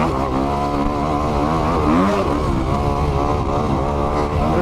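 Engine of a 2021 Kawasaki KX 250X dirt bike under way, a steady close buzzing drone with rising and falling pitch as the rider shifts and rides, no talking.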